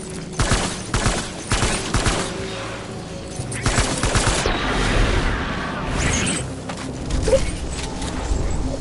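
Rapid bursts of gunfire in the game Death Stranding, sharp cracks repeating in clusters with mechanical clatter and a louder boom toward the end, up close, with occasional shouting.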